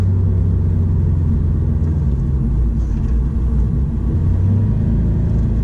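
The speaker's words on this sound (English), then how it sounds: "Let's do a second gear pull here." A 2017 Subaru STI with a stage 1 tune pulls hard in second gear, its engine a loud, steady low rumble and drone that holds for the whole stretch with no talking.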